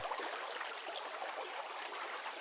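A river stream flows steadily, a continuous broadband wash of running water that stays even and close throughout with no voices.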